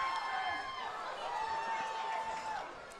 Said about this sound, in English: You can hear the fans cheering.